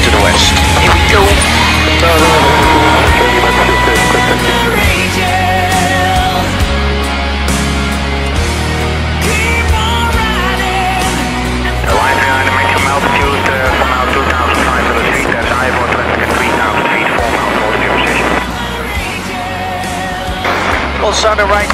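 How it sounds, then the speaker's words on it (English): Military fighter jet taking off, a loud sustained roar of engine noise filling the whole stretch, with a voice speaking over it at times. "Clear for takeoff, initially to the west."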